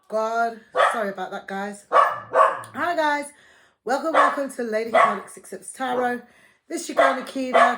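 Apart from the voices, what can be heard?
dog barking at someone outside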